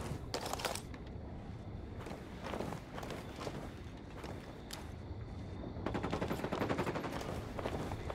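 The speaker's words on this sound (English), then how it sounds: "Opening fire on these fuckers." Gunfire in the Ghost Recon Wildlands campaign, with sustained automatic bursts and scattered shots. The shooting is moderately loud and continuous, with sharper volleys near the start and a denser cluster toward the end.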